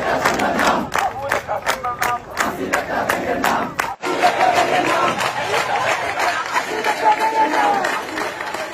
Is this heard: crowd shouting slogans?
yes